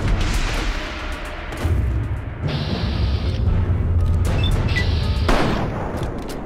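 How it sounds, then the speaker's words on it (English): Grenade explosions and gunfire in Fallout 3 during a hostile fight, with loud booms and rattling shots in rapid succession, close and continuous with short gaps between blasts. "He's throwing grenades!"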